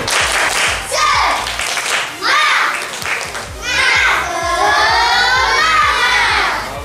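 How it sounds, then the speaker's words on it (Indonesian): Schoolchildren in a classroom perform a rhythmic chant-and-clap spirit routine, sharp patterned claps in repeating bursts alongside their excited voices, near and lively. "Tepuk semangat."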